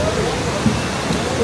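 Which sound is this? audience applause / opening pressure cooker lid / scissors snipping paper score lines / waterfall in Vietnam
waterfall in Vietnam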